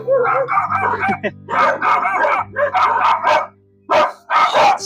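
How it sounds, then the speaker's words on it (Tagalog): Several dogs bark repeatedly and loudly close by, a busy overlapping chorus of barks with a few short pauses. "Daming aso."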